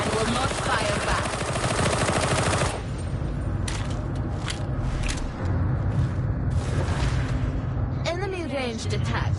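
Ranged weapon fire in the game Darktide, a dense rattling burst of automatic shots for the first few seconds, then scattered sharper shots and impacts over a steady battle din, with a voice talking throughout.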